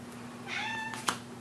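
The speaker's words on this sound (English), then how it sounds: "Hi, cat." A cat gives a single short, clear meow close by, followed by a faint second chirp, with a steady low hum beneath and no talking.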